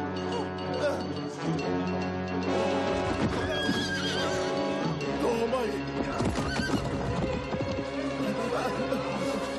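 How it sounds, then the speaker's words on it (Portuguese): A horse neighs loudly in a night scene from a Christian drama film, its whinny rising over steady clip-clopping hooves, with dense music and voices running underneath throughout. "Pegue meu cavalo."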